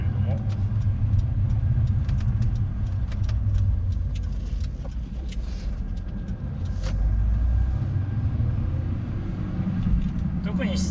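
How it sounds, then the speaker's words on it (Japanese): Low, steady tire road noise rumbles inside a Honda S2000 (AP1) lowered on TEIN coilovers, running wider-than-stock Advan Neova tires on 17-inch Advan wheels, with the engine droning underneath and someone speaking over it. "タイヤがね、ネオバ、入ってるんですけども、やっぱりちょっとね、ロードノイズは大きめですね。"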